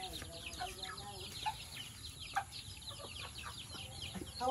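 Chickens clucking nearby, a series of short scattered clucks and calls at moderate level, with faint voices talking in the background.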